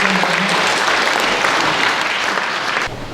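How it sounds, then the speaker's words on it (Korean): Warm, steady applause from a church audience greets a university president coming up to give congratulatory remarks at a commemorative ceremony, a dense wash of many hands lasting about three seconds before it cuts off abruptly. "박수로 맞이해주시면 고맙습니다."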